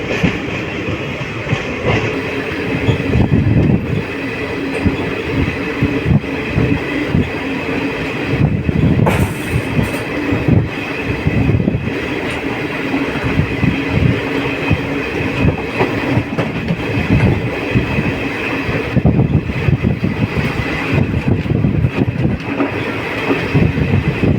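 A passenger train travels the Rajgir to Tilaiya route, cutting between two hills. Wheels clatter rhythmically on the rails throughout, with a loud, steady onboard rumble.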